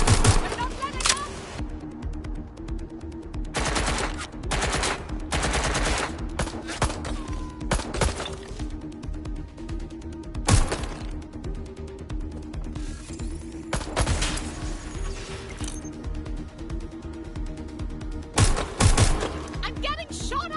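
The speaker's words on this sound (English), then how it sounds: "I'm getting shot at here!" Video game gunfire crackles in repeated loud bursts and single sharp shots throughout, sometimes in rapid volleys, with a person talking over the combat at times.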